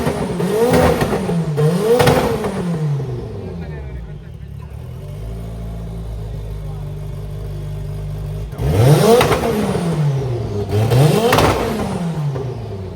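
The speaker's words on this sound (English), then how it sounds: "the engine's roar is absolutely deafening" A turbocharged inline-4 car engine roars past loudly twice at a classic car show on Lake Como, revving up and down with sweeping pitch, with a quieter idling stretch in between.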